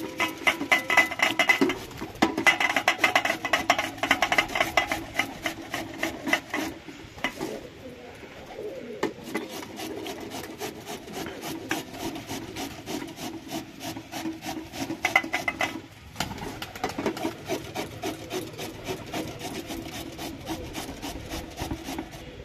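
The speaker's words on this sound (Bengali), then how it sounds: "এইরকম করে আমি কিন্তু সব মূলোটাই ভালো করে ঘষে নেব।" Radish peel is scraped off with a steady, rasping rub that continues for the whole stretch with brief pauses, close up, while birds coo faintly in the background.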